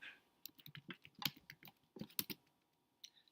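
Someone types in quick uneven bursts on a computer keyboard set too low, a close run of crisp key clicks with short pauses and a final isolated tap.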